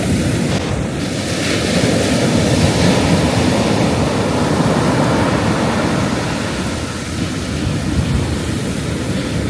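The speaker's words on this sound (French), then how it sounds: "le bruit des vagues." Sea waves surge and wash ashore in a steady, loud roar, mixed with gusting wind buffeting the microphone throughout, with no voices heard.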